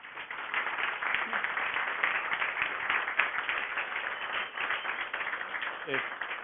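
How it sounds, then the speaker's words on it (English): An audience at the SCaLE 13x tech conference applauds after a talk, giving a continuous, muffled patter of many hands that lasts throughout, with a voice briefly audible near the end. "give her a round of applause"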